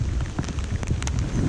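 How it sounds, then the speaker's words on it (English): Heavy rain pours steadily during a snakehead fishing trip, a dense close hiss of drops with scattered sharper patters, unbroken throughout the short stretch and free of talk. "raining heavily."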